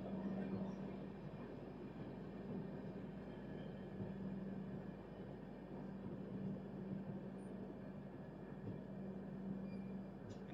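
The Gowthami Superfast Express 12738, running Lingampalli to Kakinada Port, sits at Rayanapadu station with a steady, quiet low rumble and a constant engine hum throughout.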